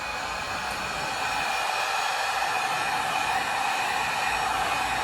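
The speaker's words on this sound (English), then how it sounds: "I'm gonna heat the candles with the heat gun again because I wanna make them flat" A heat gun blows a steady, loud, unbroken airy whoosh at melted candle wax, smoothing the wax surface flat, with no pauses across the clip.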